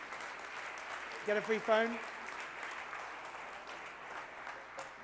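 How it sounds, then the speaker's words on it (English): A conference audience claps for a prize winner at Facebook Mobile DevCon London 2013, a steady wash of applause that swells briefly as a voice speaks over it. "Give him a round of applause."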